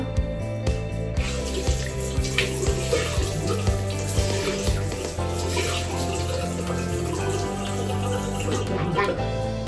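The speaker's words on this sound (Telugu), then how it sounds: "జస్ట్ వాటర్ వాష్ చేసుకున్నాం నార్మల్గా." Tap water runs steadily into a sink while a face is washed, a constant close hiss with small splashing surges throughout, with no one talking.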